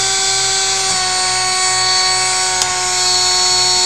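High torque electric motor running with magnets near it, giving a steady, loud, high-pitched whine with a constant hum underneath and a couple of faint clicks as it spins.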